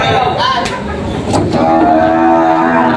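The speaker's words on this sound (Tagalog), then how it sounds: "Marami ng kalabaw ng pangkatay" Cattle and carabao at the Lucena livestock auction market in Quezon moo loudly and close, in long drawn calls over a busy crowd murmur, with people talking nearby.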